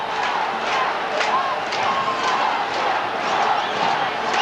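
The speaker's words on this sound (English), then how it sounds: "The Croatia supporters now in fine voice." Sydney Croatia supporters in a big crowd at Parramatta Stadium chant together during a 1988 football grand final, a sustained, rhythmic roar of many voices that carries on without a break.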